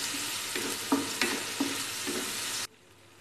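Onion-garlic-ginger paste with cinnamon and black cardamom powder frying in a pan for besan gatte curry: a close, hissing sizzle with a few stirring scrapes, then a sudden cut to near silence.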